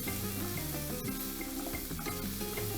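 Chopped green pepper chunks sizzle steadily in a pan beside black pepper, with soft stirring scrapes over a continuous close, even frying hiss.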